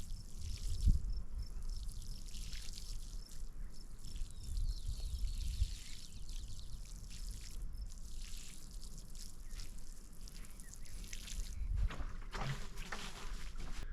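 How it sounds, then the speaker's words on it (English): Water pours and splashes steadily over soil outdoors as newly planted cucumbers are watered in, with a few soft drips and low thuds, continuing for the full length. "And then you just water them all in."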